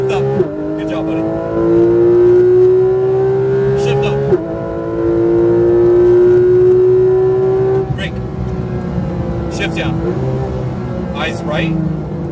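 A Porsche GT3 RS accelerating on a track, its engine note rising loudly through long pulls with upshifts between them, heard from inside the car while a voice gives driving instructions over it.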